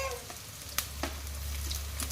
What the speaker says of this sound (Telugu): ఆయిల్ వేస్తున్నాను. ఆనియన్స్ వేస్తున్నాను.